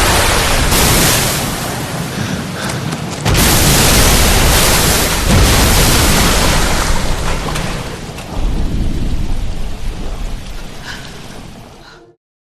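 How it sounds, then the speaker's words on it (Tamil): Torrents of floodwater surge through a concrete canal in the L.A. Noire video game, a loud, steady broadband roar with a heavy rushing swell that dips and returns, sounding close and continuous with no talk. "அதிக அளவு தண்ணி அந்த கால்வாய்க்குள்ள காற்றாட்டு வெள்ளமா கரை புரண்டு வர"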